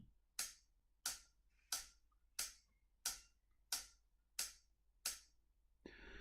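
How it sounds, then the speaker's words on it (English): A hi-hat cymbal is struck eight times in a steady even pulse, each a bright short chick that fades quickly, followed by a brief washier splash at the end. "And the hi-hat sounds like this."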